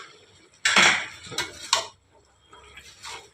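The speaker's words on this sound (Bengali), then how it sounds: "ঢাকাটা আমি খুলে দিচ্ছি" A cooking pot's lid comes off during the preparation of a Bengali vegetarian mixed-vegetable chhyachra. Several close metallic clatters and clinks sound in quick succession, then fainter rattles, with no talking.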